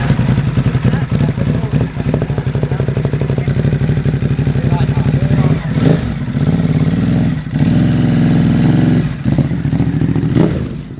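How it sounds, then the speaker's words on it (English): A Ducati Monster motorcycle with a Termignoni exhaust, baffles removed, burbles loudly at close range with a rapid lumpy idle, then blips its throttle in several sharp revs with pauses between them. "that's the Terminoni exhaust on the Monster with the baffles out"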